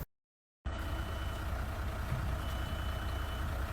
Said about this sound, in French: Ah, il y a le bus.